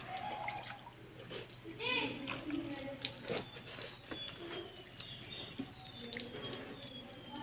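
Water is poured three times over the front shoulders of a body during a demonstration of ritual washing of the deceased, with soft splashing and trickling at moderate level under ongoing talk.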